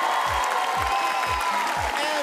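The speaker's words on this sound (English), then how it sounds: "Thank you so much for your applause and your screams and your laughter." Studio audience at the Asia's Got Talent Season 3 final at Marina Bay Sands, Singapore, clapping and cheering in a steady loud wash while a host speaks over it.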